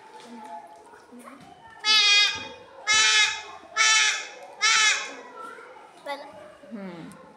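A voice imitates a goat, giving four loud, wavering bleats in a row, with quieter talk and room noise before and after.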